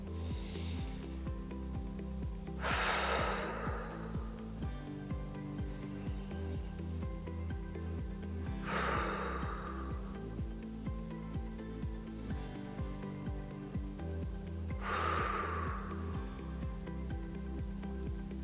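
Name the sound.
slow deep breathing in and out, exercise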